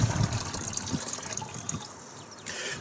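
Water pours from a 5-gallon jug into an RV fresh water tank for gravity filling, a steady gurgling, splashing flow close by with no talking.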